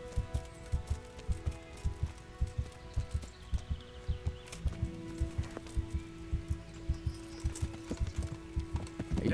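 Horse hooves clip-clop in a steady, even rhythm in the medieval role-playing game Kingdom Come: Deliverance, a moderately loud trot lasting throughout with faint ambient game sounds behind it.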